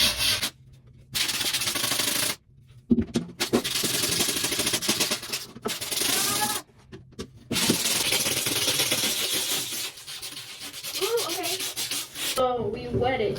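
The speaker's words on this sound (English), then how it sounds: "So we wet it, and we're gonna scrape it." A wetted screen-printing screen being scraped, giving loud rasping strokes of rubbing and scraping in several long passes broken by sharp silent gaps, with faint voices underneath near the end.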